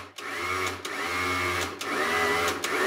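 A food processor grinding peanuts into peanut butter, a loud close motor whir with a few brief dips and restarts as the ground nuts start to clump.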